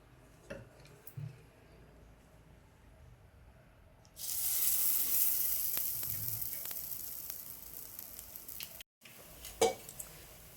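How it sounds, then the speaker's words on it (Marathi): Appe batter sizzles in an oiled appe pan. A quiet opening with a few light clicks gives way to a steady, bright frying hiss that carries on to the end, broken by one short gap and a clack. "मध्यम आचेवरती आप्पे आपण भाजून घेऊया"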